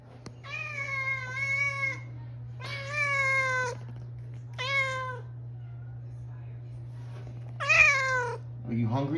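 A hungry house cat meows repeatedly, four or five drawn-out, tonal cries in uneven bursts, close and clear over a steady low hum.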